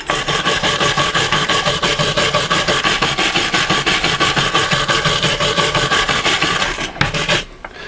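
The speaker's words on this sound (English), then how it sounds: "Have a go with a wire brush, I think, for a start." Wire brush scrubbing a greasy old measuring implement, loud close rasping strokes in a fast steady back-and-forth rhythm, stopping near the end.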